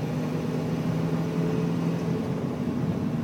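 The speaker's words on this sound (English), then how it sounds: "Let me give it some more gas here real quick." A 2003 Ford F150 Super Crew pickup engine running steadily with a low, even hum and slight rise, no distinct revving peaks, heard alone at moderate level.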